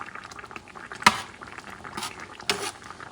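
Dried chickpeas cooking in a caldero with added liquid, Puerto Rican style, give a steady close bubbling and simmering with a few louder pops and splashes over about three seconds.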